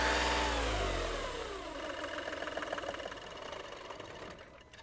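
A 2013 VW Polo 1.2 TDI diesel engine with a starting and stalling fault runs near the microphone, a loud rumble settling from a rev into an uneven, clattering idle that gradually softens.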